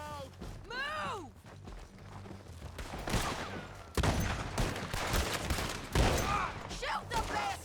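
Rapid bursts and volleys of gunfire from a Red Dead Redemption 2 shootout set among Mexican enemies, loud and close, layered with game background noise and shouts.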